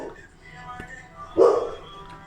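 A dog yaps briefly in the background of a home, one short burst of barking in the middle of the clip, fairly faint behind a quiet room.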